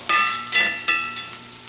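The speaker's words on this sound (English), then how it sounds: "we're going to add a little bit of olive oil to this, and then a tablespoon of butter" Olive oil and a tablespoon of butter sizzling in a hot cast iron skillet before blackened catfish goes in, a close, steady hiss with a few soft clinks or stirring bursts, no talk.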